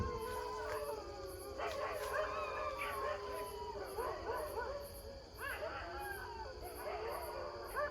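Several dogs bark and howl together in the distance, with overlapping yelps and long wavering howls over a steady high insect-like whine.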